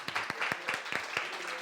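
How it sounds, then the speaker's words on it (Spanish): A small audience gives brief, scattered applause at a talk, with a handful of sharp individual claps spaced irregularly rather than a full ovation. "Un aplauso para el 15."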